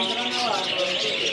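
Caged birds at a market in Afghanistan chirp and tweet in a dense, overlapping chorus, close and fairly loud, with a voice faintly mixed in.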